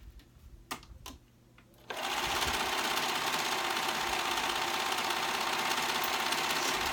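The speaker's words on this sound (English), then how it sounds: "I'm just serging that raw edge." After a few clicks and handling knocks, a serger sewing machine starts and runs continuously at steady speed overlocking a raw fabric edge, a loud, even whirring buzz that holds to the end.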